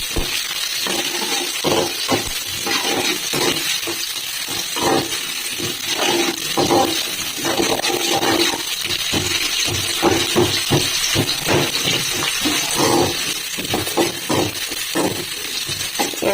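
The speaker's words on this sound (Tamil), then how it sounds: "வெங்காயம் வதங்கட்டும்" Chopped onion sizzling in hot oil in a pan for a Tamil egg and drumstick curry, with a steady hiss and crackle broken by repeated scraping and stirring clatter, close and continuous with no talking.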